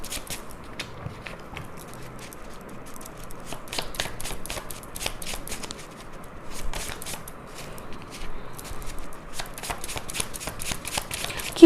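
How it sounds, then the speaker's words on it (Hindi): Tarot cards are shuffled by hand in a quick, crisp riffling rhythm, with close papery flicks and soft taps as cards are drawn, continuing steadily without speech. "5 कार्ड्स निकालूंगी मैं।"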